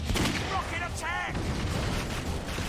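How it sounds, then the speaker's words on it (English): Explosions from a rocket attack in the shooter game Clive Barker's Jericho erupt in a dense, loud barrage of booms and gunfire, with a brief whistling streak in the middle. "Rocket attack!"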